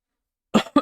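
Two close lingering-illness coughs break out of silence, the first slightly longer, the second a short sharp follow-up, clear and nearby.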